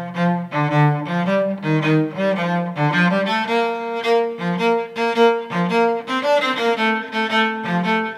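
A bowed fiddle plays a lively, bouncing jig, "The Road to Donegal," in the upper half of the bow, with quick, detached notes in a steady dance rhythm, close and clear with no talking.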